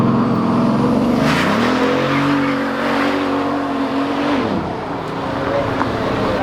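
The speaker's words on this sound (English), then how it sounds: "he is allowing everybody to launch the cars" A sports car launches hard, its engine note climbing steeply through the gears and then easing off, loud and close.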